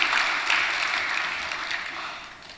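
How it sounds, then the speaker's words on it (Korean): A church congregation applauding, a soft, even patter of clapping that holds steady and gradually fades over a couple of seconds, with no voices over it. "박수 한번 쳐드릴게요."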